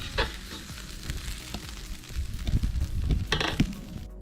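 Meat sizzles and fries in a cauldron over a campfire, crackling loudly up close with intermittent scraping stir noises and bursts of spattering, no speech.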